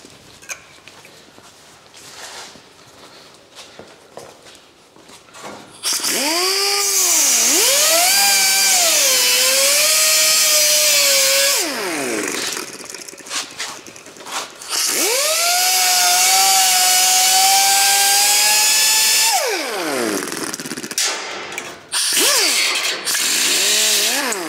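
An angle grinder cuts sheet metal on a 1961 VW bus during rocker panel repair, two long loud whining passes whose pitch dips and recovers as the disc bites, separated by a short quiet pause.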